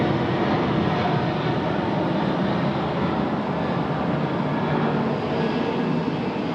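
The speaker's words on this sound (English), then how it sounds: "Our Virgin friends now departing off 16 right." A Virgin airliner departs Sydney Airport's runway 16 right on a rainy night, its engines producing a dense, continuous roar with heavy low rumble, steady and loud without talk.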